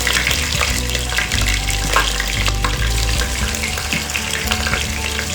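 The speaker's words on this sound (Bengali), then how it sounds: "পেঁয়াজটা দিয়ে আমি কিছুক্ষণ পেঁয়াজটা ভেজে নিই।" Onions sizzle in hot oil in a pan for a beef curry, a loud, close crackling fry with stirring scrapes and shifting bursts over the steady hiss, and no voices.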